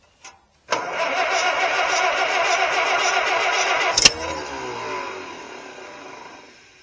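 An Allis Chalmers WD45 farm tractor, idle for a couple of months after haying season, cranks after a short click and catches almost immediately, running steadily and loud for several seconds before a sharp bang and a fading rumble.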